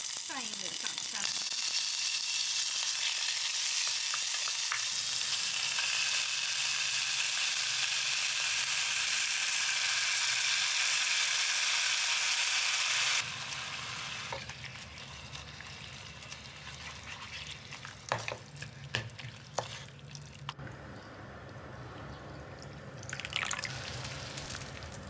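Pork belly and garlic sizzle loudly in sesame oil for kimchi soup, a dense steady frying hiss for about thirteen seconds that then drops to a quieter crackle with occasional stirring clinks and drips.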